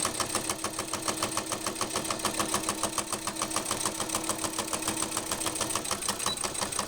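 A sewing machine stitches down the side of a vinyl coin purse shaped like a ramen noodle package, running steadily with a fast, even mechanical rhythm of needle strokes throughout, close and continuous with no talk.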